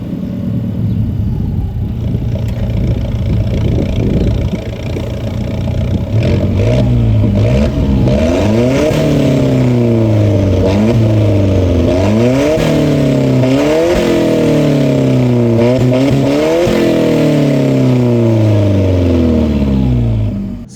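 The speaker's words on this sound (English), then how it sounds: "We're driving the Alfa Romeo 4C." Alfa Romeo 4C sports car under way, its engine revving loud and close in repeated rising pulls with gear changes, a steady rumble throughout and no talking.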